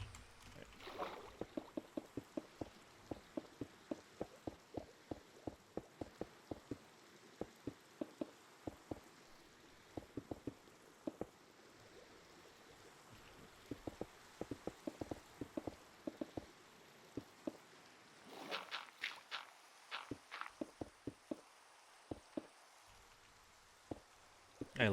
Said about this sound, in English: I love Minecraft Rain. It just sounds so nice.